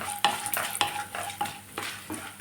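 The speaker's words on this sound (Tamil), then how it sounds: "வதக்கிட்டு இந்த ரைஸை போட்டுக்குருவோம்." A utensil stirs and scrapes through rice frying in a pan, with several distinct stirring strokes over a steady sizzle, close and clear.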